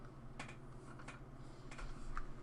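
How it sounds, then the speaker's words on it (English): A computer keyboard key is pressed, giving several faint, quick clicks with soft tapping spread across a quiet background. "you want to press U on your keyboard"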